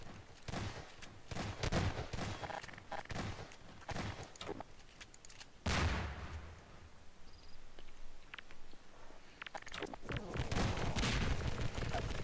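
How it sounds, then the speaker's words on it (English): Gunshots fired at someone, a series of sharp cracks and bursts scattered through busy, noisy surroundings, with a louder blast midway and a dense rumble building toward the end. "Why are you shooting at me?"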